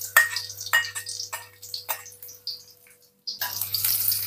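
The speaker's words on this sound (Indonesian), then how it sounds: "saya mau goreng bawang putih dan bawang merahnya terlebih dahulu" Garlic and shallots fry in a pan for an Indonesian stir-fry of sausage, cabbage, green beans and carrots, with crackling bursts and clatter up close, a brief pause, then a steady louder sizzle.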